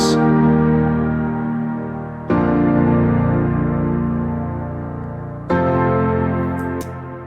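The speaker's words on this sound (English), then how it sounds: "And then I just added this piano" A simple piano part from a song outro plays alone: sustained chords struck about every few seconds, each ringing out and slowly fading before the next, close and clear with no voices.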